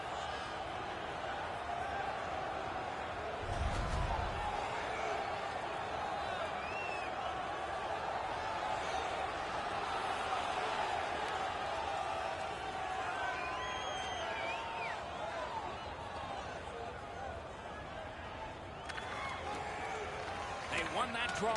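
Steady roar of an ice hockey arena crowd cheering after a fight in an EASHL hockey video game for the Belfast Giants club, continuous and fairly loud with commentary voices over it and a brief thud near the start.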